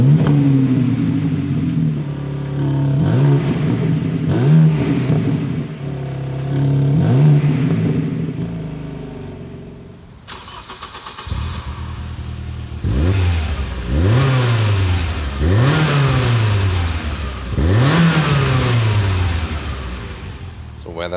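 A BMW M3 engine, a 3-liter bi-turbo inline six, revs repeatedly up and down, its loud rising and falling pitch sweeps coming close and steady, while a person talks over the first half.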